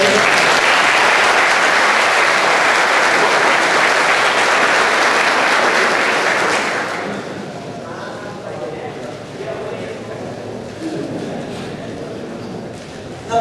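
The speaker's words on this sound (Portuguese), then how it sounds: "Salve de palmas para ele." An indoor audience at a conference gives a round of applause, loud and dense for about six seconds, then thinning to scattered clapping and murmuring voices.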